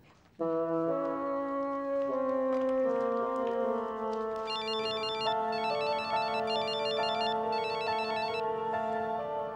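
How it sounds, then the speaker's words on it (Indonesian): A telephone ringtone plays loud and steady, a looping melodic electronic ring that sounds repeatedly as a call is placed during an Indonesian TV drama scene. "Kamu telepon Rafli, tanyakan sama dia"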